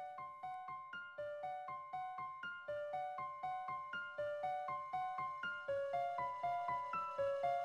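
Soft, bouncy chiptune-style title screen music from the video game Looksley's Lineup, with bright plucked tones over a steady repeating beat, playing alone and quite quietly.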